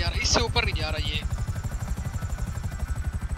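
A helicopter in Grand Theft Auto V flies with rapid, loud rotor chopping that pulses rhythmically throughout, close and dominant, while a voice briefly speaks over it at the start.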